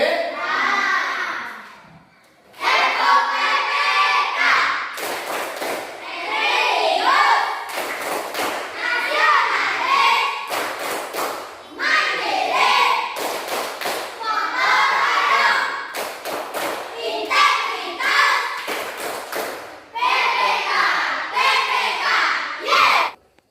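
Schoolchildren in a classroom performing the rhythmic 'tepuk PP' clapping chant, bursts of sharp group claps alternating with loud chanted voices in a repeating pattern, close and energetic, with brief pauses between phrases.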